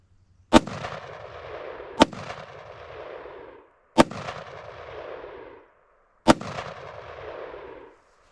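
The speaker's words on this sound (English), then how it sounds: "So I've got 4 rounds of green tip. That's what I'm going to be firing into it." Four sharp rifle shots of green tip rounds fired into stacked paper, each a loud, close crack followed by a decaying echo, spaced roughly one and a half to two seconds apart.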